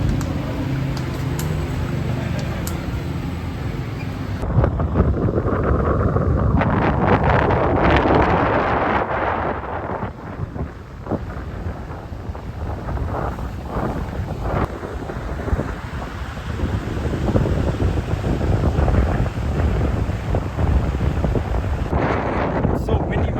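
Strong wind blows on a day in Bali, roaring steadily and buffeting the microphone in loud gusts with a brief lull partway through.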